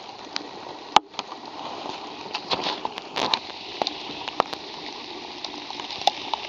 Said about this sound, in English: this rain won't let up, eh? Yeah, no. It's been raining all night, man.